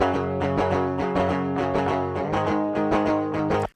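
Electric guitar with stock passive pickups, recorded as a DI track, plays a short pop punk rhythm riff of driving, evenly picked chords, loud and up close, cutting off sharply.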